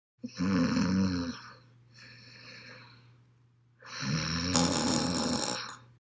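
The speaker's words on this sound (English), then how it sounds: "Papa fell asleep and snored so loudly" Loud, rasping snores close by: two heavy snores with a softer one between, each drawn out on a slow breath.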